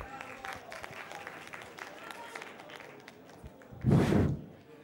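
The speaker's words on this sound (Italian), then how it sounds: "Un grande applauso a Giovanni Pagano e all'Ammanic per aver organizzato alla grande questa manifestazione" A short, dense burst of audience applause rises at a Fand Day 2013 event, following a stretch of talk and faint background noise, then fades quickly.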